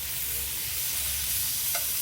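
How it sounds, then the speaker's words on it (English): Onions tossed into a pan with the last of some potatoes, frying over a butane burner, give a steady, fairly quiet sizzle that holds even throughout, with one brief clink near the end. "I just threw the onions in here with the last of the potatoes."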